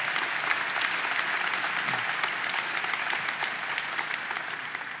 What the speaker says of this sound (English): Let's give a real rousing round of applause for Geddes.